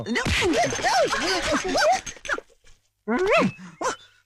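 A dog barks and yelps in a rapid excited run, goes quiet for a moment, then lets out a few more close, loud barks.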